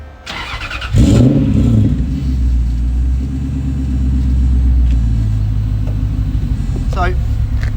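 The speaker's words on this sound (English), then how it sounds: "So, it idles pretty quietly really. Just a nice little burble." Toyota 3UZ V8 swapped into a Volvo 245 with a custom single-exit exhaust, firing up with a short roar, then settling into a low, steady, fairly quiet burbling idle close by.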